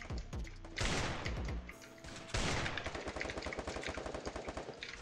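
Rapid gunfire from a shooting video game played on the BlueStacks emulator, with dense bursts of automatic shots in quick repeated volleys, loud and continuous across the clip.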